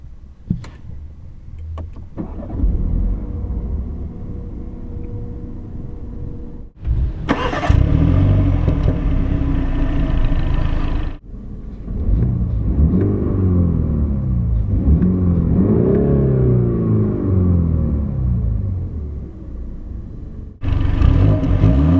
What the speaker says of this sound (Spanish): Os voy a enseñar cómo suena. Este es el 420i.